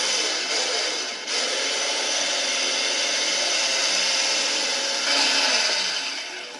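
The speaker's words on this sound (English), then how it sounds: "We're going to whisk for about 3 minutes, and then we're going to check it." Cream being whisked for strawberry ice cream by an electric mixer, a steady continuous whirring hum that stays loud and even throughout with a slight surge near the end.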